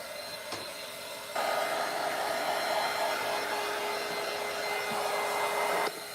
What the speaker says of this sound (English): I was just going to sand it, and I haven't got to use my new sander yet.